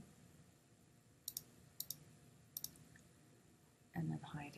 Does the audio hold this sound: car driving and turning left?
no